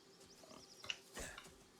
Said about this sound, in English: I hear more pig.